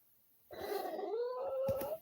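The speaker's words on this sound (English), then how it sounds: "kitty is making a lot of noise" A cat gives one long, drawn-out meow that bends upward and fades, close and fairly quiet, with no talking.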